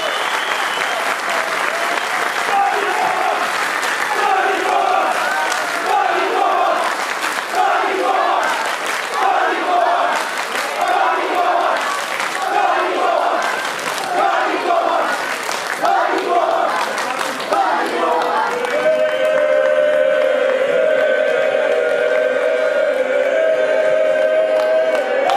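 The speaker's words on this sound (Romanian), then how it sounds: "Dani Coman, care merită o rundă mare de aplauze acum" Loud crowd applause with cheering at an FC Argeș football club anniversary event, for the club president, rhythmic and sustained for about eighteen seconds before music with tonal notes takes over.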